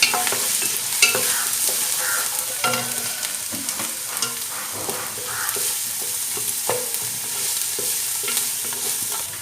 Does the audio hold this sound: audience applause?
no